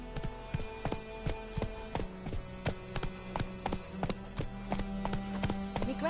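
Roach the horse's hooves clip-clop in The Witcher 3 in a steady walking rhythm of crisp, close taps, with game ambience and a faint voice underneath.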